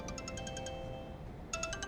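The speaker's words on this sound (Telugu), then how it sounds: "ఫోన్ మోగుతోంది." A phone ringtone chimes in a repeating pattern of bright electronic tones, pauses briefly, then starts again over a steady background hum.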